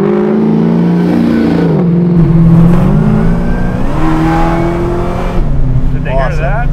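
Supercharged 750 hp LSA V8 in a 1970 Camaro restomod accelerates hard, a loud close engine roar climbing in pitch through gear changes, with voices briefly over it.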